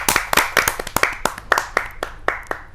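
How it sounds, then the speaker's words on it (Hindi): Scattered hand claps from a small audience at a Hindi poetry gathering, irregular and fairly close, tapering off over a few seconds. "आइए जोरदार तालियों से स्वागत करते हैं"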